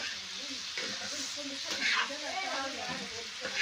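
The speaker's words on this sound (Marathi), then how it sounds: "हळद जिरे मिक्स करून घ्यायचे तेलामध्ये फोडणीच्या" Turmeric, cumin and chilli sizzling in hot oil as tempering for a radish dish in a Marathi village, a soft continuous frying hiss heard close up beneath someone speaking.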